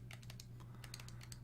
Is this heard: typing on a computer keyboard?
yes